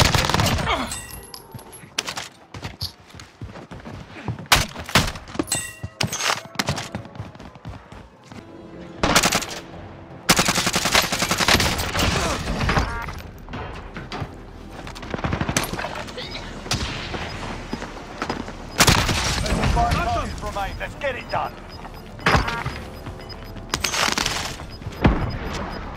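Bursts of automatic gunfire and single shots crack repeatedly in a Call of Duty Rebirth match, loud and close, with sharp irregular volleys over battle noise and in-game voice callouts.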